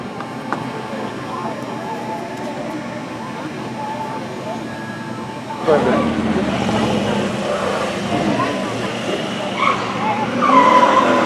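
Tires squeal and skid as police cars roar through stunts at a Smokey and the Bandit event, with a loud crowd and voices underneath, the screeching intensifying toward the end.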